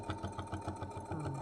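A sewing machine running a short back stitch on a fabric coin purse, a steady fast mechanical chatter with regular rhythmic thumps, close and moderately loud.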